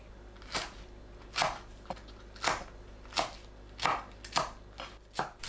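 A knife cuts washed, stemmed shishito peppers into short lengths on a cutting board. The chops are quiet and close, landing as distinct thuds about once a second over a low steady hum.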